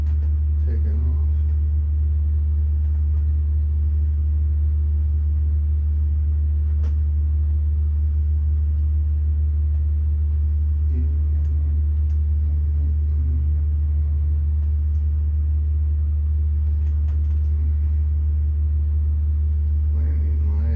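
A small plane's piston engine drones steadily at full power during takeoff from Spirit of St. Louis airport runway 26L. It is a loud, constant rumble heard close up from the cockpit, with occasional faint voices over it.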